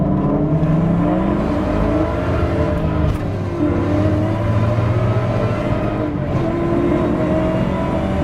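A 2003 Ford SVT Cobra's engine runs steadily while driving, a loud continuous drone that rises and falls in pitch as it revs through gears, with a brief dip around the middle.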